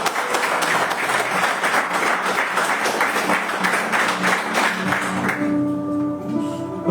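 A church congregation claps in praise, a full, lively burst of many hands that fades near the end as sustained keyboard or organ tones rise into the clear.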